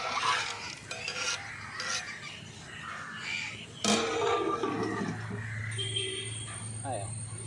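Ghee rice for neychoru gets stirred in a cooking pot, with scraping and clinking of a spoon against metal and soft grainy shuffling, while a person talks over it and a bird calls faintly outside.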